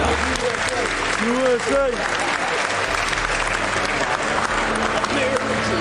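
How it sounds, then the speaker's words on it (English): Sustained applause from a World Championships crowd at a Flesh and Blood card game Top Cut event in Indianapolis, dense clapping filling the hall while an announcer's amplified voice speaks over it. "Give one more round of applause, please."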